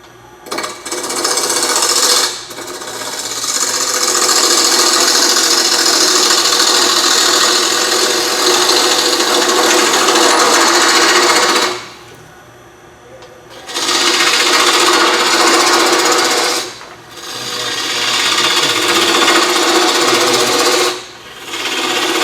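Wood lathe spinning a mushroom blank as the gouge cuts down past a knot, a loud steady whirring grind broken by two brief pauses, close and continuous with no voices.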